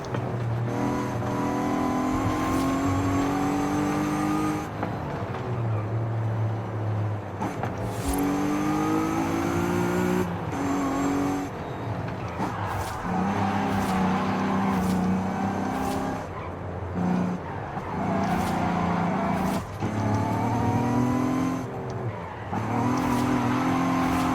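A Volkswagen Golf R32 roars through a hill-climb sprint, its engine rising and falling in repeated revving sweeps, with throttle blips on downshifts and brief tyre noise, loud and continuous throughout.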